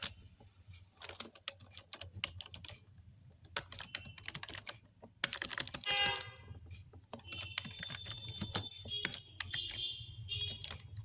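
Code typed quickly on a keyboard, close and clear with dense irregular key clicks, a brief burst of heavier clacking midway and a faint high electronic tone in the background, no talking.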